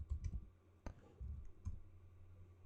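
Typing on a computer keyboard, a few quiet scattered clicks and key taps in short bursts with gaps between, close and soft.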